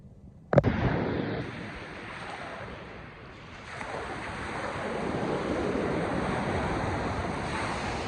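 A wave rushes in with a sudden crash, then a steady roaring wash of surf and water continues, with wind noise on the microphone.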